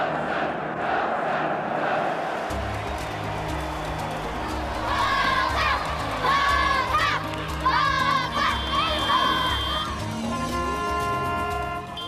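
A largely white rugby stadium crowd at a World Cup final celebrates Nelson Mandela, with a broad distant roar swelling into rhythmic chanting voices and a steady low drone underneath.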